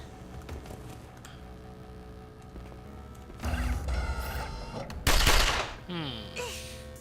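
Gunfire aimed at a robot in The Pit: a few sharp, loud shots burst out in the latter half after quieter mechanical clatter, with no talking over them.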